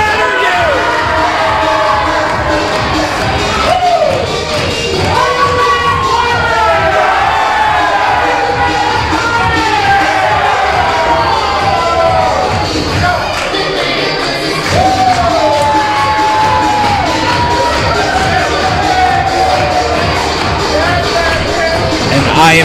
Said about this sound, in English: The crowd is on fire for Pancakes.